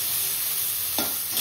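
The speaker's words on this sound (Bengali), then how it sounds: "ততক্ষণে টমেটোটা ভাজা হয়ে যাবে" Tomatoes frying in a pan in a home kitchen, a loud steady sizzle close by with a quick scraping stir partway through, alone without talk.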